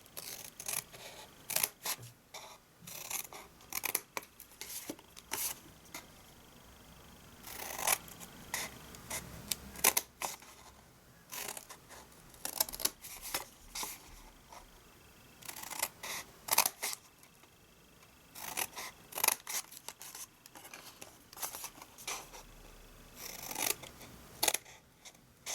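Scissors snip through card stock while shaping a small pill box, with clusters of short, crisp cuts coming in bursts and quiet pauses between them; close and fairly quiet, with no voices.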